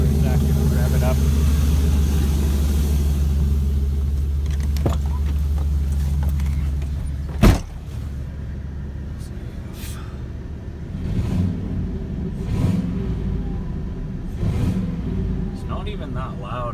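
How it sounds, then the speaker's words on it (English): A 2000 Chevy Silverado 1500 truck with a Hooker LS turbo manifold idles with a low, steady rumble, then settles into a rougher running note after a sharp knock, with faint mechanical clatter throughout. "I'll just hop inside for a second and rev it up."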